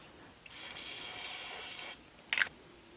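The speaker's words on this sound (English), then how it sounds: "we can clean this up. Brake cleaner, Scotch-Brite" Brake cleaner sprays in one sustained hissing burst lasting about a second and a half, followed by a short, sharp scrub of a Scotch-Brite pad on a BMW E90 M3 driveshaft part, close and alone.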